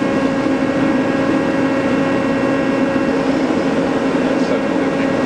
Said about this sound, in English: Right now we're running the spindle 350 RPM.